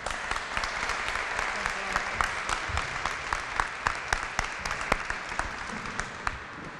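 Steady, full applause from a large audience thanking a speaker, continuous dense clapping with a few sharper individual claps standing out near the end.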